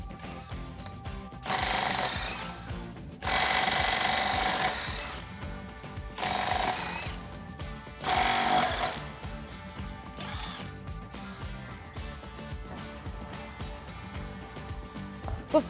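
An impact gun removes the wheel lug nuts on a Jeep Wrangler JK, firing four loud rattling bursts of about one second each separated by quieter pauses, close up in a workshop setting.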